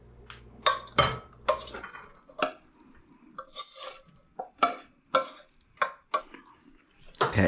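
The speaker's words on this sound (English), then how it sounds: "We're going to go ahead and move our pasta into our baking dish" Cooked macaroni being moved into a baking dish for baked mac and cheese, a run of separate close clinks and scrapes of utensil against cookware at an irregular rhythm, with no voices.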